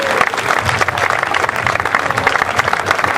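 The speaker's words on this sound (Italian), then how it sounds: "Il vostro applauso va alla professoressa Ines Lancellotti" An audience at a literary and songwriting award ceremony applauds a professor being honoured, a full, steady burst of clapping that holds loud and even from start to finish.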